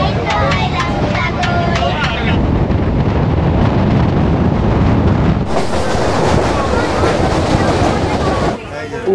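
Train running toward Namkhana, heard from on board as a continuous rattling rumble with wind buffeting the microphone, shifting tone midway before a brief drop near the end.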